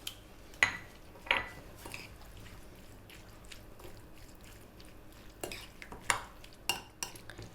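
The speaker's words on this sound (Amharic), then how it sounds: "እንደባልቀዋለን። ሚክስ እናደርጋለን።" Potato salad with lemon and mayonnaise stirred in a bowl, giving a handful of soft, quiet clinks and wet squishy scrapes of a utensil at an uneven pace, close by.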